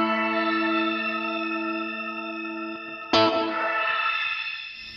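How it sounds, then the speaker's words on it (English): Sustained shimmer from a Neunaber Seraphim reverb pedal holds dense rising-octave harmonics, then a fresh guitar strum about two-thirds through blooms into a new bright cascade of octaves that hangs and slowly thins. "what a shimmer does is each repeat is going to go up an octave, so you get cascading octaves"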